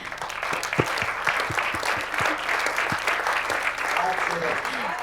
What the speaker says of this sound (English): Ramo, a big round of applause, please